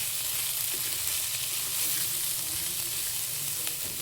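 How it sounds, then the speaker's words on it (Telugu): Raw plantain with coconut fries in a pan with a continuous, even sizzle and crackle that holds steady from start to finish, close up, with no voices. "ఇది ఒక 2-3 మినిట్స్ ఫ్రై చేద్దామండి."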